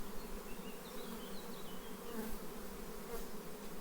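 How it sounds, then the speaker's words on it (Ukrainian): Dense buzzing of many honeybees on hive frames, a steady close drone with occasional louder passes of individual insects, no talking. "Бджола коржом сидить."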